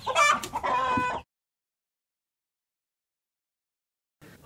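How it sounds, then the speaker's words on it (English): A hen clucks in a short, close burst of rapid calls lasting about a second, then silence until a faint new sound starts at the very end. "Hen."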